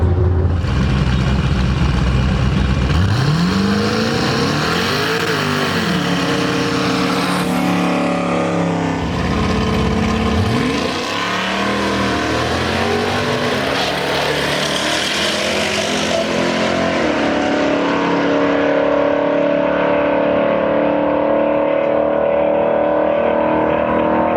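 A twin-turbo Mazda RX-7 makes a drag pass at the track, its rotary engine roaring loud and close as it revs up through repeated rising gear pulls, then holds a steady high drone.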